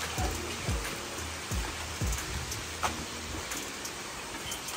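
Rain falls steadily outdoors, making a continuous close hiss with a few soft low thuds scattered through it. No voices.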